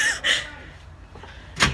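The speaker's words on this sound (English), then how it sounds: "I mean, the door's open." A door opens with two short bright rattles near the start, then a quiet pause and one more sharp knock or latch sound near the end.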